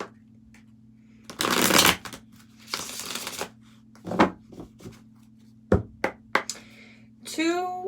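Tarot cards shuffled in several bursts of riffling and slapping, with brief soft knocks between, close and fairly quiet over a steady low hum; a short rising chirp at the end.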